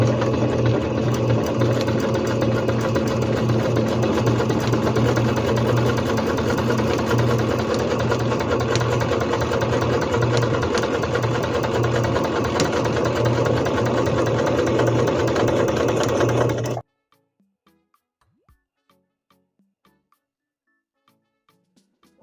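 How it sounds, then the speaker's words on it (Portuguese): Singer C5605 electronic sewing machine stitching a seam with adjusted thread tension, a close, steady rapid motor whir and needle clatter running continuously, then cutting off abruptly into near silence. "E vou fazer uma outra costura com a tensão da linha ajustada."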